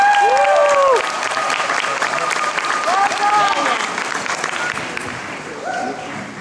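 An audience gives a big round of applause for a steampunk performance act, loud clapping joined by high whistles and cheers that slowly tapers off.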